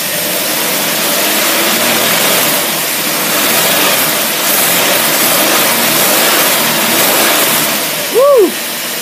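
Engine running on an Autolite carburetor, a loud steady roar of engine and rushing air that swells slightly in places, with a brief sharp chirp near the end.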